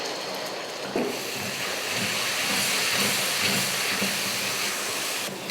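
Masala with tomato paste sautéing for a Punjabi-style chicken curry, giving a steady, dense hiss of frying close by with a few soft stirring bumps.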